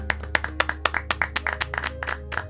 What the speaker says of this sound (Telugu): అందరూ చప్పట్లు కొడుతూ ప్రభు నామాన్ని మహింపరుద్దాం.